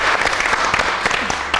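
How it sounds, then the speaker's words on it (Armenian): A studio audience at a comedy quiz show claps for a correct answer, loud close applause with rapid overlapping claps throughout. "Ճիշտ պատասխան է, եկեք ծափարենք։"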